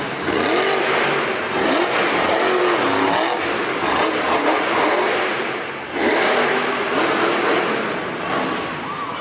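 Loud, roaring engine of the Monster Mutt Dalmatian monster truck at a Monster Jam arena show in Hamilton, Ontario, revving hard and surging in two long bursts with crowd and arena noise behind it.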